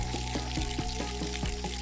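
Water pours onto plants in the video game Schedule 1, heard as a steady splashing pour with regular gurgling pulses over a constant tonal game hum.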